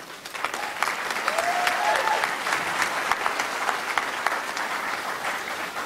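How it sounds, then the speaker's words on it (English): Audience applause fills a graduation ceremony hall at USM in 2016, a dense, steady wash of many hands clapping that holds for the whole stretch at a fairly even level. "and we applaud them"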